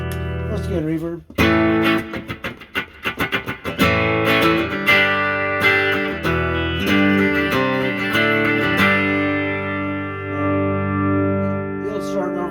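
A 1964 Epiphone Pacemaker electric guitar played through an amp with reverb: strummed chords and picked notes ring out loud and close, with long reverb tails sustaining between phrases.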